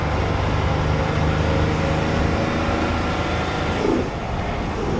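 A Saathi car driving on a testing track, heard from inside as a steady loud engine and road drone that drops slightly near the end, with no voice present.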